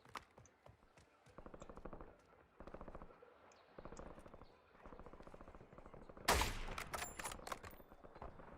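Bursts of automatic gunfire in Warzone, repeated rattling volleys separated by short pauses, fairly distant at first, then a loud close blast and crackling shots near the end.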